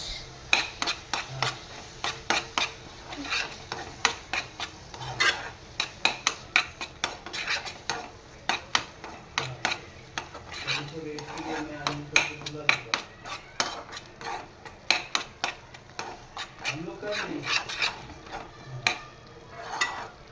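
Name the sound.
stirring onion tomato masala with chili powder in pan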